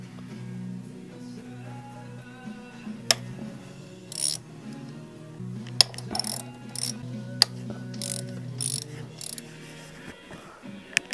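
Ratchet loosening T30 star-head bolts on a Volkswagen FSI engine fuel pump, with scattered clicks and metallic taps over a low steady engine-bay hum, close and moderately quiet.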